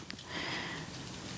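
A pet dog sniffs around during a yoga session, a short burst of close, breathy snuffling, faint and alone.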